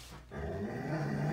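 Pet dogs growling close by, a brief, low, rumbling snarl that swells after a short quiet moment and holds steady to the end.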